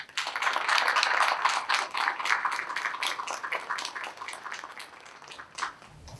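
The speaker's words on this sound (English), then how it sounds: "give them a round of applause" An audience in a theater applauds inductees at a Phi Theta Kappa induction ceremony: a dense round of clapping that starts strong, then slowly thins and fades over several seconds, with no talking.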